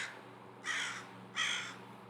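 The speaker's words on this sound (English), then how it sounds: "Dude, the crows this time of year go crazy." Crows caw outside, two distinct harsh calls separated by a short pause, moderately distant and fairly faint against a quiet background with no speech.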